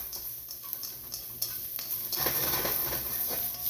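Carrots tossed in hot oil in a pan for beef lo mein, a steady sizzle with utensil clinks and a louder scraping swirl near the end, close up with no talking.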